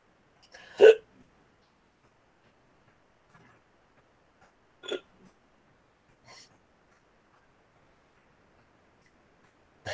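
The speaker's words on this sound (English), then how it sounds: "I got the hiccups." Hiccups from a man indoors: a loud one, a softer one a few seconds later, then a faint third and the start of another, separated by near silence.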